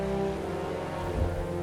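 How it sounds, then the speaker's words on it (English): Steady rain with a low thunder rumble in the fantasy role-playing video game Metaphor: ReFantazio, a dense wash of downpour under a deep roll near the end, brief and fairly quiet with no talking. "Thundering, is it?"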